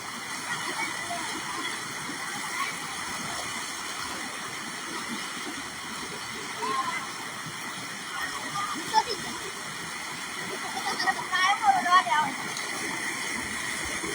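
Steady rushing floodwater flows nearby with a constant hiss, with occasional splashes and sloshing bursts near the end, and faint voices in the background.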